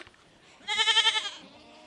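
A stuck goat lets out a single wavering bleat, close and distinct, rising out of a quiet background and fading after about half a second.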